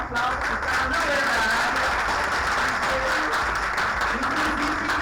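Steady, dense audience applause fills a Portuguese-language event for the whole stretch, loud and continuous, with a crowd murmuring under the clapping.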